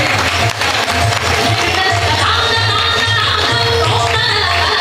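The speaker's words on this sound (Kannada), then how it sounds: "ಬಂಧುಗಳೇ, ಜೋರಾದ ಚಪ್ಪಾಳೆ ಬರಲಿ." An audience claps loudly at an award ceremony honouring Sundara Acharya Kotekar, a sustained wash of applause filling the hall over a low steady hum, with no break from start to finish.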